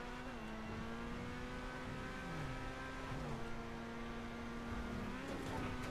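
A supercar engine in GTA 5 drones at a steady, fairly quiet level as the car drives along, its pitch shifting slightly with small rises in revs, with no voices in the clip.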